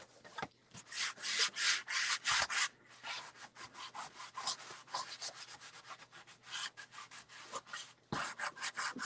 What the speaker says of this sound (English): I do try to use an older sand block or piece of sandpaper